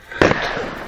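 A single firework or firecracker bangs sharply for the 4th of July, a loud close burst followed by a short second crack, then a fading noisy tail.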